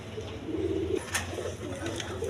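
An orange chila pigeon gives soft low coos, faint and close, with light background noise and a brief sharp sound near the middle.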